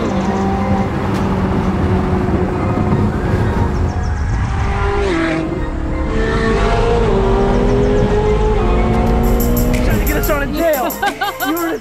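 A rebuilt Ferrari 458 racing engine roars steadily and loudly at high revs throughout, with a brief shift in pitch near the end, while people talk over it.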